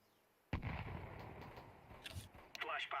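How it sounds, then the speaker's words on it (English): A flashbang grenade bursts with a sudden sharp bang in Counter-Strike 2, followed by a ringing, hissing tail and a few scattered game sounds, with a voice speaking faintly underneath. "Flashbang."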